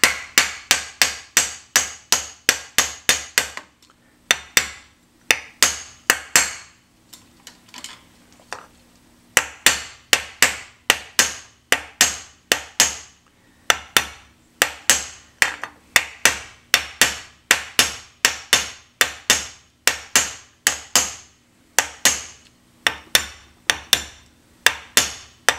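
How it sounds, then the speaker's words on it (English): A hammer strikes a copper beaker being raised over and over in quick bursts of sharp, ringing blows, with short pauses between sets, close and loud. "where the hammer is hitting."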